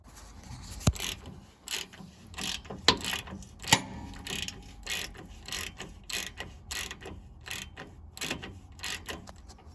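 Ratchet wrench clicking in quick repeated bursts while bolting up a new shock absorber on a 2011 Ford Ranger Wildtrak, with 17mm and 14mm nuts; close, steady metallic ratcheting with brief louder knocks, no talk.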